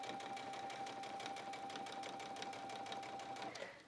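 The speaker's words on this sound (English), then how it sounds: "I'm just going to stitch right on the edge" A sewing machine runs steadily, stitching along the edge of a denim shirt dress, a dense rapid rhythmic whir with a steady tone, then slowing and stopping near the end.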